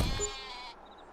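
A sheep bleats in a farming game, a single clear bleat near the start that fades into a brief tail with faint high tones after it.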